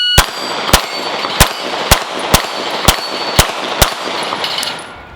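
A Sig P365 Gen 2 pistol fires eight sharp shots at a steady, fairly quick pace, each report ringing against steel targets. Every shot is loud and crisp over low background noise.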